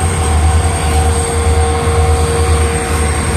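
An Indian Railways WDG4D diesel locomotive in yellow and blue livery rumbles past up close, a loud, steady roar of engine and wheels with a sustained whine above it and no pauses.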